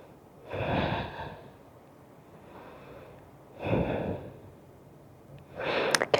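Slow, deep breaths during a vinyasa yoga session: three or four long, breathy inhales and exhales, close and fairly quiet, spaced a couple of seconds apart with near silence between.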